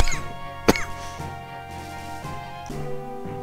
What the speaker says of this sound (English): that was a horrible cough